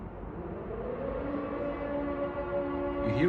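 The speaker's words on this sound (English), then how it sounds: "So you hear the siren?" Air raid siren sounding across Kyiv, Ukraine, a steady sustained wail with layered tones held throughout at moderate distance, with no talk over it.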